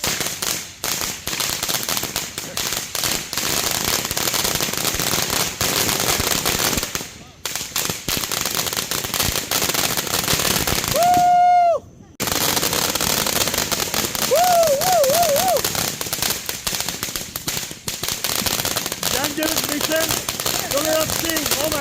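Fireworks and firecrackers crackle and pop in front of a house during a Fourth of July family celebration, a dense, loud barrage lasting throughout with brief gaps, while people cheer and talk nearby.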